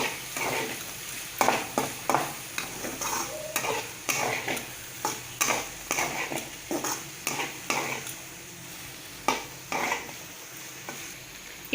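Banana stem pulao with fresh mint is stirred in a frying pan, a spoon scraping and clattering against the metal in steady repeated strokes over a soft sizzle, close and clear with no talking.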